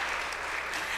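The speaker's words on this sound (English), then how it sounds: "Yes, that deserves applause." A fairly faint, brief burst of audience clapping for choir students at a high school spring choir performance.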